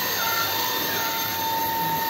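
A vacuum cleaner runs during a home window repair, giving a steady, loud, unbroken whooshing roar with a faint high whine and no pauses.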